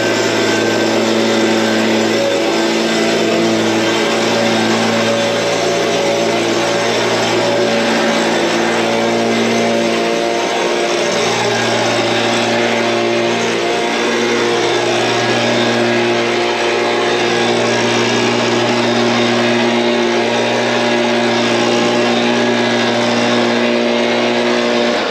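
A gasoline leaf blower, either a Stihl BG 86 two-stroke or a Makita BHX 2500 four-stroke, runs at a steady high idle. Its loud, continuous engine drone holds for about 25 seconds with no talking.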